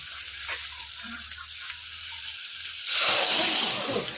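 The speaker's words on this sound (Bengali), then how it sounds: "এখন ঝোল দিয়ে দেব, পরিমাণ মতো ঝোল দিয়ে দেব" Gravy poured into a pan of fried paneer sets off a sudden, loud burst of hissing sizzle about three seconds in, after a quieter stretch of low kitchen noise.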